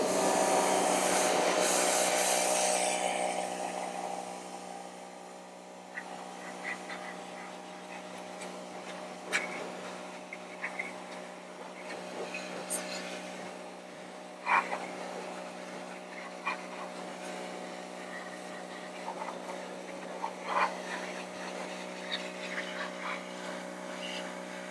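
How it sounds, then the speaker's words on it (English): A pressure washer sprays Plasti Dip off a car wheel with a steady, loud hissing roar and an underlying motor drone. The blast surges at the start and then settles into a constant jet with small spatters. "So what I'm gonna do is hit it with my first run with the pressure washer."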